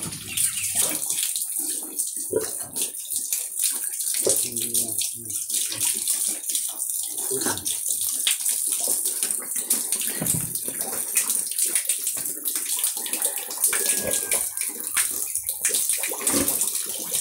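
Grower pigs are washed down after feeding with running water, which splashes and gushes steadily for a long stretch, close and fairly loud, with irregular sloshing bursts.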